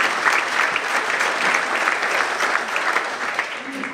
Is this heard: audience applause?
yes